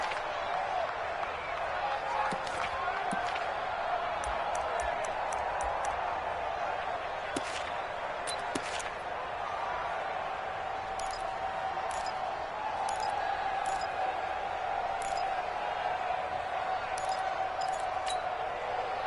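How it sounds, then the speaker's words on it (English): Stadium crowd at an NFL game between the Ravens and Jaguars, a steady broad roar of cheering and noise that builds ahead of a big third down, with scattered sharp claps and bangs over it. "The crowd getting into it as we come up on a big 3rd down"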